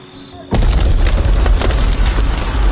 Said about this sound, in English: someone magically threw a bomb